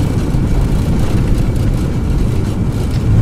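Aircraft thrust reversers deployed after landing produce a loud, steady low roar of jet engines under rumbling rollout, continuous and close without pause.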